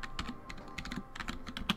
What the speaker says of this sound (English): I apologize if the keyboard's super loud